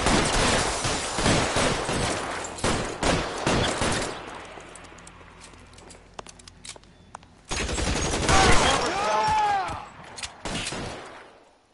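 Heavy gunfire rattles through a shootout in the video game L.A. Noire: dense bursts and rapid shots, then a quieter gap with scattered pops before another loud barrage, with some voices mixed in.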